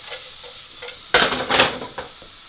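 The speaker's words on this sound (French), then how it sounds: "Et là vous faites revenir vos échalotes jusqu'au moment où elles sont colorées." Shallots sizzle as they sauté in a pan, with bursts of stirring and scraping, all loud and close. The frying starts gently and then swells into a few sharp bright bursts of crackle as they are moved around.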